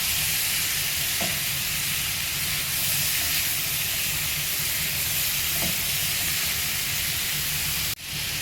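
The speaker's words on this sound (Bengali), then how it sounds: "এই আলুগুলো এর মধ্যে দিয়ে দিলাম। দিয়ে এবার আবার একটু নেড়ে চেড়ে ভেজে নেবো।" Small-cut potatoes stir-fried with fish entrails in a pan, giving a steady close sizzle and hiss throughout, with a couple of soft stirring scrapes and a brief clatter near the end.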